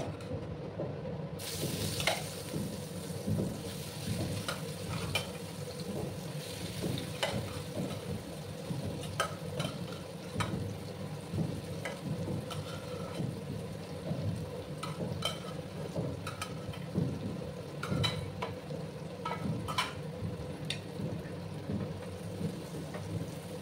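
Taro pieces frying in hot oil with a little turmeric, a steady dense sizzle and crackle running throughout with occasional stirring scrapes, close and continuous with no talking.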